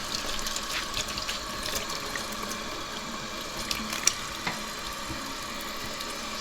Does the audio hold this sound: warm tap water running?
yes